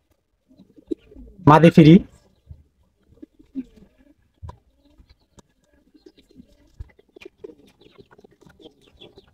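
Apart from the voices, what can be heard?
male red checker giribaz pigeon cooing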